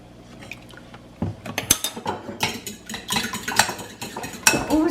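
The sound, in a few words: whisking egg with milk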